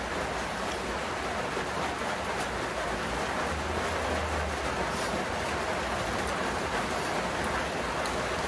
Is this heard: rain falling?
yes